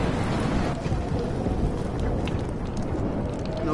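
Steady video game rain pours through a storm scene, with a dense, even wash of rainfall and low rumbling underneath, loud and continuous throughout.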